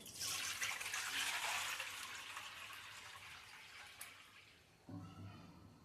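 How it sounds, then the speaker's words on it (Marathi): Wheat-rinsing wash water is poured from a kitchen sink into a pot in a continuous faint splashing stream that tapers off, followed by a brief clunk and softer trickle. "आता हे पाणी मी एका भांड्यात काढून घेणार आहे"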